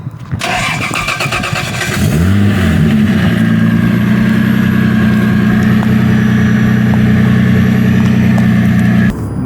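A warm Toyota Supra MK IV cranks and fires up loudly, the engine revving briefly before settling into a steady, deep idle that runs close and continuous until the end.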